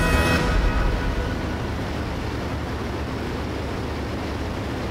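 Steady droning roar of a British Spitfire aircraft engine in the IL-2 WWII flight game, a dense continuous rumble holding level from start to finish with no talk.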